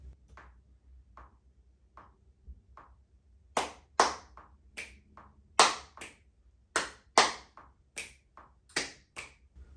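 Finger snaps recorded close to a microphone: a few soft snaps, then a loud, sharp, evenly spaced series with a quiet pause between each one.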